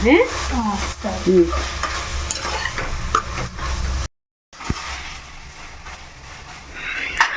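Cauliflower masala curry stirred in a pan, with a spoon scraping and clattering against the metal over a steady sizzle. There is a brief dropout partway through before the scraping and frying resume.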